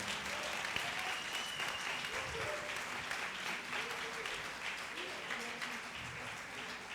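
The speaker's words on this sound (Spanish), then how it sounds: "Dale fuertes aplausos al Señor." Applause from a church congregation during a Spanish-language sermon, a steady wash of clapping from the room with a few faint voices beneath, moderately distant and continuous.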